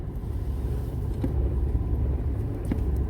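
A car rolling slowly without the accelerator as a learner drives, a steady low rumble of engine and tyres from inside the cabin, with faint clicks.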